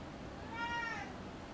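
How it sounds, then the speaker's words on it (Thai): A pet cat gives a single short meow at close range, with a steady background hum around it. "เธอดูแมวฉันน่ะ มันจะแบบชวนเล่นน่ะ แล้วมันก็ร้อง"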